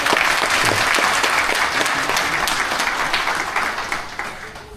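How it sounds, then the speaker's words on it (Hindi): A hall audience applauds to welcome a city mayor at a public gathering, loud dense clapping that holds steady and then gradually tapers off toward the end. "एक बार जोरदार तालियों से उनका स्वागत है"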